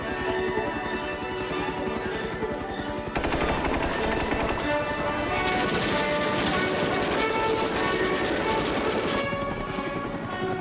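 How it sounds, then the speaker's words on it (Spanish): Loud, continuous mechanical roar with rapid rhythmic chopping from US Army helicopters in 1965, growing denser and heavier partway through, with no talk. "Estas operaciones movilizan cientos de helicópteros"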